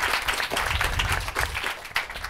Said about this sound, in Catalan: Aplaudim a la Raquel